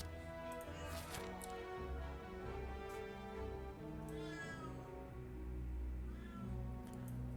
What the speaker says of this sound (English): really loud cat.